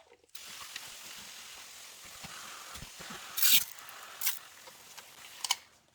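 A spray bottle mists water onto worm bedding for African nightcrawlers, giving a soft steady hiss over several seconds with a few sharper spurts near the middle and at the end.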